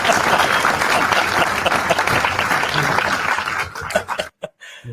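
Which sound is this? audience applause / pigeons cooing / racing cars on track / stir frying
audience applause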